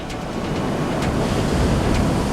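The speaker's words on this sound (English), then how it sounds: "It just looked like hills of water and wind blowing fiercely and just water spraying everywhere" Storm at sea with huge waves and fierce wind, water spraying everywhere: a loud continuous roar of surf and gusting wind buffeting the microphone, with no voices.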